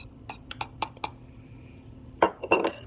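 Spoon clinking against a bowl while flour and cornmeal are mixed for salmon cakes: a quick run of sharp taps, a pause, then a louder cluster of scraping clinks, close and without talk.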